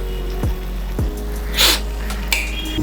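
A spoon stirs milk for carrot halwa in an AMC cookware pot, giving a few close metallic scrapes and knocks at irregular intervals over a steady low background hum, with no speech.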